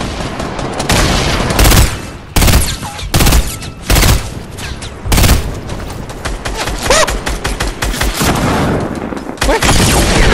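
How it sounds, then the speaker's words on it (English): Rapid bursts of gunfire in the video game Fortnite during a 50 v 50 match, including a shotgun, loud and repeated in clusters with short gaps, dense and chaotic throughout. "Let me just use the shotgun on one."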